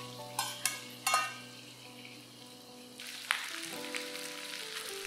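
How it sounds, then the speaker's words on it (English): Chicken wings frying with onions and the white parts of spring onions for a ginger sesame oil stir-fry, a few sharp clatters of pieces hitting the pan, then a soft steady sizzle that swells as more goes in. "Fry all this for about 3 to 4 minutes till the wings are a little brown"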